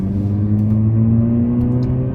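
A Mazda RX8 rotary engine pulling while driving, a loud steady smooth drone with rising pitch as it accelerates, heard from close up with no talk.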